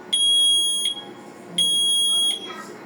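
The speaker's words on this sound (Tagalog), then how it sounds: "smoke detector." A loud, high-pitched smoke alarm sounds in two long steady beeps, each under a second long, separated by a short pause.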